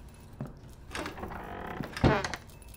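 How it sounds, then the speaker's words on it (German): A door creaks and thuds open in the horror video game Layers of Fear, with a few soft knocks and scrapes before a sharper clunk near the two-second mark, heard up close and fairly quiet. "ich kann die Tür zumindest wieder aufmachen"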